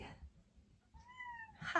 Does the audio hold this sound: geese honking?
no